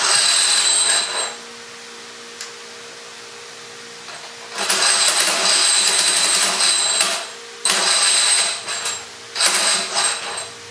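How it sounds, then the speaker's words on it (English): The starter motor of a 100-year-old engine cranks in four separate bursts of grinding, ratcheting mechanical noise, with short quiet gaps between attempts. "you would have heard the starter motor sort of fighting with the engine to try and start it"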